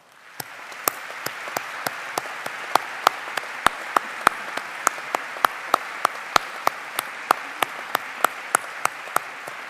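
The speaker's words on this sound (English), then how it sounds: "Graduates, please join me in a round of applause for all the Swinburne staff" Graduates applaud Swinburne university staff at a graduation ceremony, a broad wash of crowd clapping with a steady rhythmic beat of distinct claps running through it.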